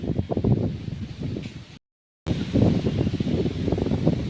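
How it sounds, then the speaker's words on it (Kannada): Gusty wind buffeting and rustling the leaves of a pongamia tree in bursts, briefly cutting to silence midway before the blustery rustle resumes. "ಹೊಂಗೆ ಮರ ಗಾಳಿ ಬೀಸ್ತೈತಲ್ವಾ"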